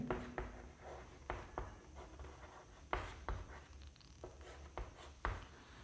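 Writing out a math solution by hand, faint close scratchy strokes in short irregular bursts with a steady background hum.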